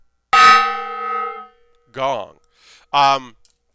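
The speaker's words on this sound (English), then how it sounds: "I'm going to hit that gong" A gong struck once in a home LEGO-building workshop rings out loud and bright, its long shimmering tone fading over about a second, followed by two short bursts of nearby talk.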